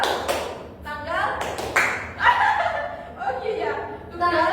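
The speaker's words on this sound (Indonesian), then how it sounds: "Kalau Ibu sebut tanggal, tepuk tangan" Hand clapping in a classroom word game: a few quick, close claps and taps scattered through, mixed with children's chatter, chuckles and light laughter.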